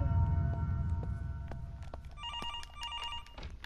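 A phone ringing inside the horror video game Infliction, a repeated electronic trill in short bursts over a low rumbling ambient drone, moderately loud with no talk.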